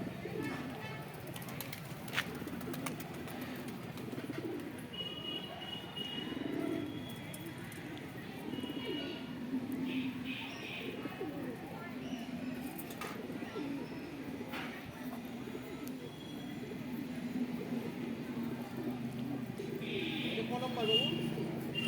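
Several pigeons kept at a home coo softly and steadily in the background, low rolling calls repeating throughout, with occasional chirps and people talking nearby.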